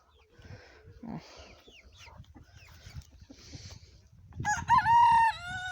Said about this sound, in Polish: o, Feniks pieje